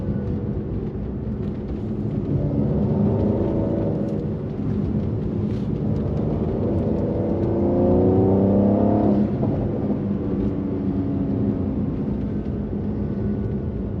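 A Mercedes-AMG C43 sedan with all-wheel drive climbs a hill, its engine droning steadily and then rising in a clear revving sweep partway through, with a road rumble underneath.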